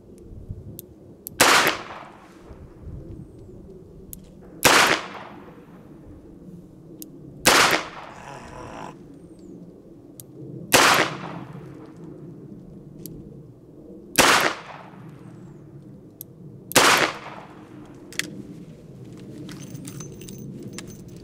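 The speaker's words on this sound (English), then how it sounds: "So now we're gonna shoot the Model 19 at 35 yards." Six sharp, loud revolver shots from a Smith & Wesson Model 19 at an outdoor range, spaced about three seconds apart, each a crisp crack with a short echo and quiet between.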